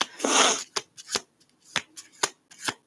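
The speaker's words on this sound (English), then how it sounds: "I made a pyramid with the cards on the board." Playing cards handled while stacking them into a pyramid on a board: one longer shuffling riffle, then a series of short, sharp, separate card taps and slides spaced through the moment, close and fairly quiet.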